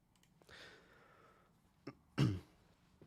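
A single sharp throat clear bursts close to the microphone, preceded by a softer breathy rasp and a brief click, with otherwise quiet room tone and no talking.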